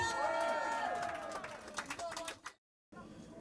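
A crowd at the opening of a politician's campaign office claps and cheers in a busy indoor room, with dense clapping under a loud voice, then a brief cut to silence and more crowd noise.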